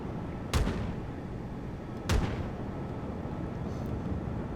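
Warship main guns fire in World of Warships during a cruiser and carrier battle: two loud, heavy booms about a second and a half apart, each with a broad blast and a rumbling tail over steady low engine and sea noise.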